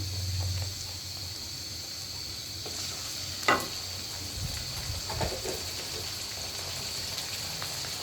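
Ginger and garlic paste fries in a pan for aloo dum, a soft continuous sizzle with occasional scrapes and light clinks of stirring, steady and fairly quiet throughout.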